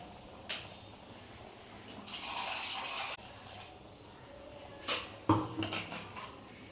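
Water rinsed from a coconut-grinding mixie jar is poured faintly into a simmering mutton curry with mochai beans, giving a soft splash and a few trickles and drips.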